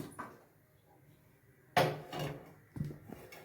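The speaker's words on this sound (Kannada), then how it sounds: "ಈ ಥರ ಸ್ಟವ್ ಇಟ್ಟಿದ್ದೀನಿ, ಪ್ಯಾನ್ ಇಟ್ಟಿದ್ದೀನಿ" A pan set down on a stovetop for hagalkai fry, heard as a sharp metallic clank followed by a ringing scrape, then a second, softer knock a moment later, each standing out against a quiet room.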